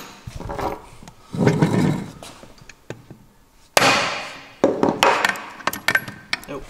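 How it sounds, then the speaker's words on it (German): Hammer blows seating a nut onto the crankshaft of a scooter engine fitted with a Stage6 Streetrace 70cc kit, a few sharp metallic knocks and thuds at close range, spaced irregularly with handling noises between. "Mutter drauf, Hammer drauf."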